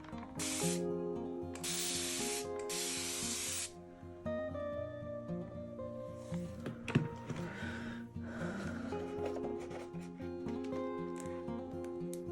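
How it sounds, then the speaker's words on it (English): A spray bottle misting water onto a watercolor painting hisses in several quick bursts, close and crisp, followed by softer spritzes and faint tapping, with no speech. "so let's spray that just a bit."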